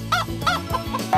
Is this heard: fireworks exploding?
no